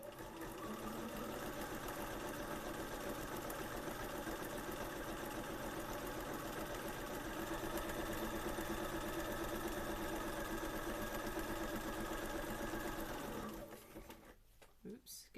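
Sewing machine zigzag stitching fabric for a Victorian skirt, a fast steady mechanical whirr running continuously before stopping near the end, with faint clicks as it halts.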